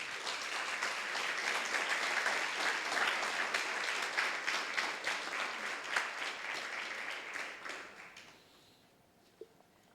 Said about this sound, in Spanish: Le damos otro fuerte aplauso al Señor.